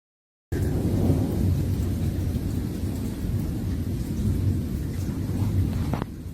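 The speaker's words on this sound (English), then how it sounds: "It's just wicked thunder and lightning." Heavy thunder rumbles continuously through a thunderstorm, a deep rolling roar mixed with steady rain that starts abruptly after a moment of silence and keeps going, with no voices.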